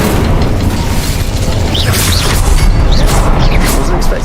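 Spell blasts striking runes in Hogwarts Legacy, a dense, loud run of booming bursts and crackling magic effects layered with a few rising whooshes, continuous over the whole stretch.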